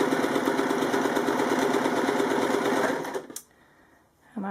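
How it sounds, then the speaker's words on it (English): Sewing machine running a straight stitch on fabric under gentle pedal pressure, a steady, close, rapid mechanical whirring that stops abruptly near the end, followed by a brief click and a short voice. "gently apply some pressure to the pedal, which is going to make the machine go. So we're just going to do a straight stitch here"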